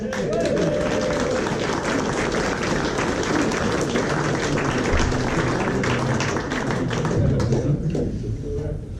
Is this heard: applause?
yes